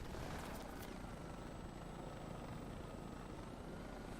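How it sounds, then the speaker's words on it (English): A helicopter in the video game Insurgency: Sandstorm, its steady rotor drone and engine roar filling the whole stretch, constant and fairly loud, with no voices. "It's a helicopter."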